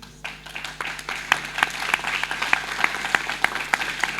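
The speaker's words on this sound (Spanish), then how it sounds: "Denle un aplauso a Él." Church seminar audience clapping at a Bible study gathering, a steady rhythmic round of hand claps with sharp individual claps standing out, close and moderately loud.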